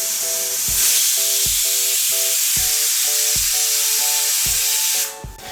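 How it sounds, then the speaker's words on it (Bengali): Pressure cooker on a gas flame cooking Bengali chicken curry lets out a loud, steady steam hiss close up, with regular clicking pulses running beneath it before it cuts off near the end. "এই দেখুন প্রেসার কুকারটা একটা সিটি দিয়ে দিয়েছে।"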